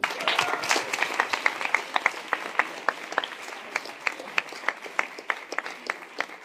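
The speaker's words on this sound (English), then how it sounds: "Big applause." An audience at a tech conference applauds, individual claps standing out crisply over a softer wash of clapping that continues steadily, thins toward the end and is heard without talk.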